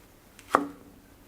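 A knife slices through an almost ripe homegrown tomato on a chopping board in a single quiet, crisp cut close up.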